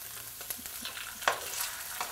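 Zucchini chars in a hot pan with a soft, continuous sizzle and a few small crackles and pops, fairly quiet and brief, with no talking.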